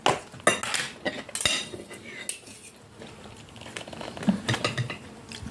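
Cutlery spreading butter, with irregular clinks and scrapes of a knife against a plate or dish at close range and no talking.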